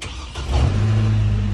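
A Chevy Colorado pickup with a shorted bus line fault cranks and catches, its engine starting up and settling into a loud, steady idle rumble, close by with no talk.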